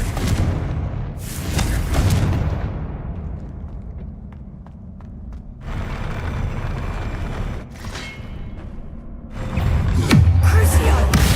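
In Hogwarts Legacy, the Confringo fire spell sets off several heavy explosive booms. They come in separate bursts with quieter rumbling gaps between them and clatter and footsteps around them.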